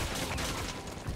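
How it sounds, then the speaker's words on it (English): Continuous rapid gunfire from a Resident Evil 6 gameplay firefight, a dense, steady clatter of shots filling the whole moment with no pauses. "What the hell are you shooting at?"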